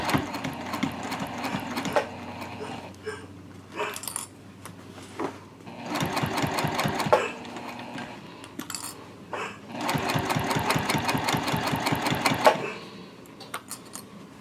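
A sewing machine runs in several separate bursts while stitching the gusset of a zip-top tote bag, its needle chattering in a rapid mechanical rhythm. Quieter handling and pauses fall between the runs.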